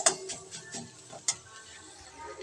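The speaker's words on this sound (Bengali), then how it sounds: "দেখো শিমটাও একটুখানি নাড়াচাড়া করে নিচ্ছি।" Flat beans are stirred in a cooking pan, giving a few soft scraping taps and clicks over a faint sizzle, close by and with no talk.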